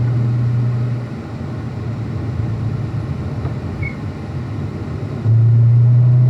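A car engine on a race track at Spring Mountain Motorsports Resort drones steadily as it accelerates down a hill, a loud close-up rumble that swells near the end without any talk.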